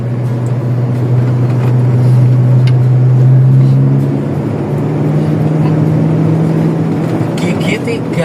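A 1997 Toyota Kijang LGX runs in third gear, its steady engine drone rising slightly in pitch midway through, continuous and close, with people talking over it inside the cabin.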